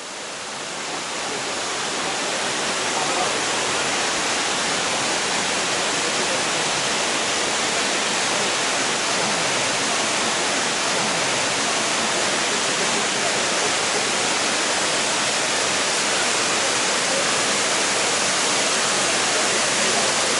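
A waterfall below a grotto pours into a pool beneath, a dense, constant rushing roar that stays loud and even throughout without any voices.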